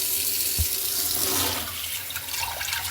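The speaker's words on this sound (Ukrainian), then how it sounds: "На дрішляк промивається, так як вермішель промивається, сироватка, щоб все змилося." Food such as vermicelli is rinsed in a colander under running tap water, a steady close rush and splash filling the short clip with no talking.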